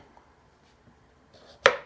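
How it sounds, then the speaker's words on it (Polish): Knife chopping green tomatoes into large pieces for jam, a single sharp chop on a board after quiet moments, close and distinct. "Ja raczej tak na takie większe kawałki kroję."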